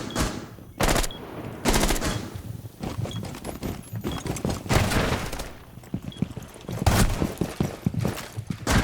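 Rapid gunfire in a shooter video game, with bursts of loud close shots and sharp individual reports coming in irregular clusters across the whole stretch, broken by brief pauses.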